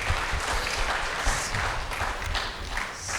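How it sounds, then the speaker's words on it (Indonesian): Guests applaud the bride and groom at a Batak wedding, a brief burst of dense crowd clapping that sounds close and fairly loud. "beri tepuk tangan dulu untuk kedua mempelai"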